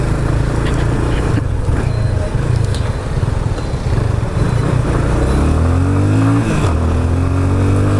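A Yamaha Fazer 25 motorcycle on a test ride holds a steady engine drone under heavy wind roar, then its pitch climbs sharply as it accelerates hard toward the end, loud and close.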